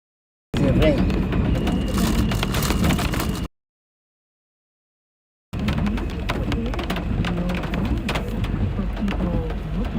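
Steady rain noise heard while driving through New York City, a dense hiss interrupted by a couple of seconds of dead silence before resuming, with faint voice-like sounds mixed underneath.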